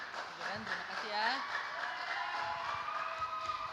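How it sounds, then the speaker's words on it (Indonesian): An audience at a church youth talent contest claps in a steady wash of applause, while a voice speaks over it for much of the time. "Beri tepuk tangan sekali lagi"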